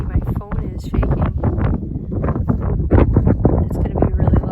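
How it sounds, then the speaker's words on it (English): Strong wind buffets a handheld phone microphone outdoors on a country road, producing loud, continuous low rumbling gusts and thumps right up close, with speech mixed in underneath. "Oh man, it's so windy, my phone is shaking."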